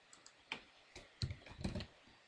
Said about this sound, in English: I'm going to type in the dimension of 505 thousandths. And then enter.